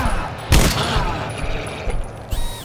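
Gunfire erupts in the co-op shooter GTFO: a sharp loud burst near the start, scattered smaller shots through the middle, and another firm blast near the end, over a steady game ambience.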